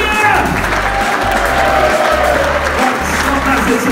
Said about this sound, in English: Keep clapping and cheer.